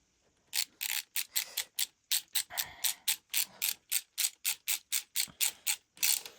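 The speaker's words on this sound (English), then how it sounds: "Let me just go ahead and tighten this one down now." A hand ratchet tightening a bolt on an Audi 3.0T engine part, a steady run of about twenty crisp, close clicks in quick rhythmic strokes, loud and alone without talk.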